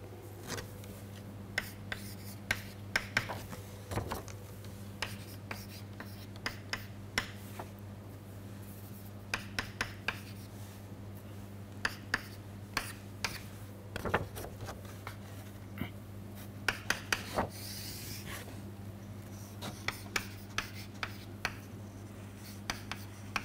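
An equation is written out by hand, the pen scratching and tapping in short irregular strokes with quiet pauses between, close and fairly faint over a low steady hum.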